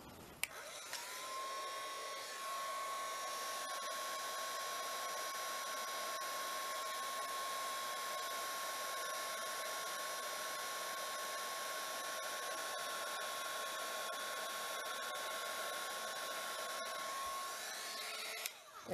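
A well-used, very old heat gun runs continuously for embossing in a crafting setting, a steady close whirring blow with a high whine, starting and stopping cleanly with no talk.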